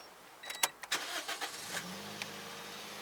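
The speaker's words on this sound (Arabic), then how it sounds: "بيبدأ يشغل السيارة، بيدعس كلتش" A car engine is started during a driving test in Saudi Arabia: a few faint clicks, then the engine turns over and settles into a low, steady idle, with no talking.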